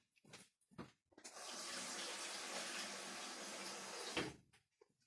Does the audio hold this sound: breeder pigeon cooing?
no